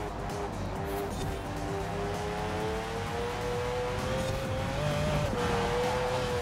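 A 2017 Aston Martin Vanquish Zagato in Forza Horizon 4 holds a steady, droning engine note while cornering under throttle, with faint tire noise and no talk.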